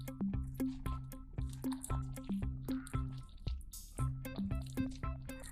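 Thick urad dal vada batter worked by hand with chopped onion and green chilies, giving close, wet squishing and dripping sounds in a steady rhythm of repeated squelches, with no talking.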